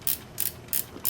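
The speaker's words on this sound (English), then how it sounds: "I'm using a 10mm socket to pull this screw out." A 10mm socket ratchet backs a screw out on a Kawasaki Z H2 motorcycle, giving three or four quick clicking bursts in rapid succession, close and crisp.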